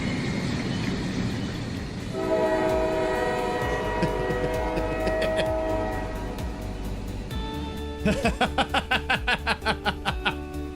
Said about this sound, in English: Use the train horn.